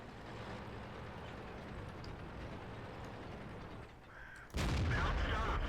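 Tank cannon fire in World of Tanks: a loud, sudden broadband blast near the end, after a steady rumble of engine and battle noise.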